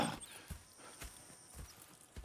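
Horse hooves clip-clop at an easy walking pace in the video game Red Dead Redemption 2, faint, evenly spaced steps heard alone.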